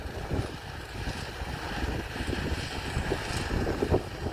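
Strong wind blowing steadily across an open rice field during harvest, a continuous broad rushing roar with gusty swells and buffeting against the microphone, with no voices.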